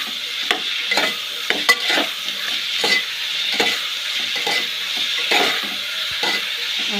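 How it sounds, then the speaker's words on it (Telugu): Onions fry in a pan, a constant close hiss broken by repeated sharp scrapes and clicks of a spoon stirring them, with no voices. "ఉల్లిపాయలు కొంచెం ఎర్రగా వచ్చేలాగే వేగాలి"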